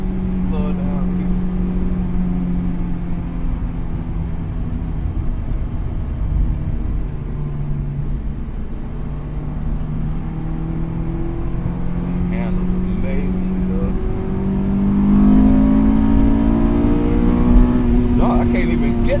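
A Honda S2000 AP1 engine revs through the gears while driving, a loud, steady in-car drone that climbs in pitch toward the end, with occupants talking over it.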